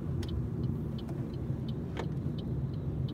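A car drives along a road on a trip to Birmingham, a steady low rumble of engine and tyre noise heard from inside with a few faint ticks and knocks and no talk.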